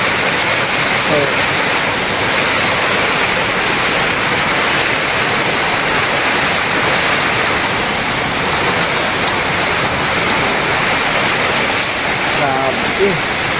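Heavy rain pours steadily during Typhoon Pepito in Bicol, a dense, continuous hiss of water hitting surfaces close by, with a brief faint voice near the end.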